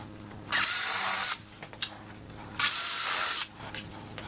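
Power drill driving exterior-grade Torx head screws into wood on a garden obelisk trellis: two loud, steady whirring bursts of about a second each, close by, with short quiet gaps and small clicks between them.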